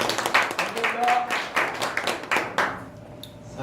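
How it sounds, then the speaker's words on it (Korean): Hand claps at a Lions Clubs International promotional seminar for the chairman and officers: a scattered, uneven round of clapping from a modest audience in a meeting hall, thinning out toward the end, with faint voices underneath. "진심으로 애써주신 우리 하재관 의장님과 집행관님 박수 한번 좀 쳐주시죠"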